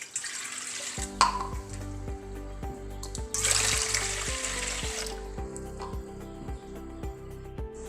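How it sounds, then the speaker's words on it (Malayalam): Two cups of water are poured into a cooking pan for the meat pathiri, giving two bursts of splashing over a steady, low, tonal hum. "അപ്പോൾ നമുക്ക് 2 കപ്പ് വെള്ളം ഒഴിച്ച് കൊടുത്തൊന്ന് വേവിച്ചെടുക്കാം"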